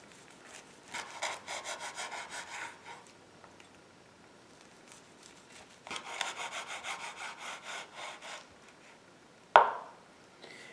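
A knife saws through a Cajun shrimp sushi roll in two bursts of quick back-and-forth strokes, soft and close. A sharp tap on the board follows near the end.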